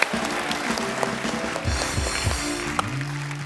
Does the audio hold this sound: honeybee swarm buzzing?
no